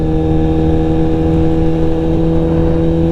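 A motorcycle engine running hard while merging onto an expressway: a steady, loud, droning mid-pitched engine note with strong harmonics, close and continuous, no voices.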